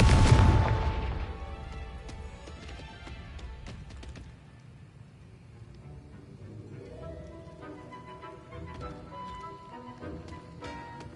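A Confringo blasting spell going off in the Hogwarts Legacy video game, a loud booming burst at the start that decays into a rumbling tail, followed by quieter game sounds and speech.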